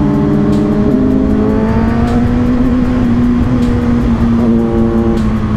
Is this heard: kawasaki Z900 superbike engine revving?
yes